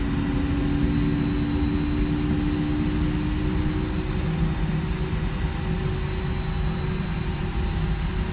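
Airbus A320 jet engines spool up in X-Plane, a steady loud roar with a low rumble and a high whine that holds evenly throughout.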